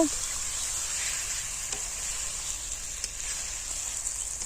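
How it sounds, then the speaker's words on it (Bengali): Bombay duck fish being sautéed with spices in a pan, a continuous bright hissing sizzle at an even level, with faint occasional stirring clicks and no talk. "এখন আমি একটু এই মশলার সঙ্গে লোটে মাছগুলো একটু ভালো করে মিশিয়ে নেব তারপর কষিয়ে নেব"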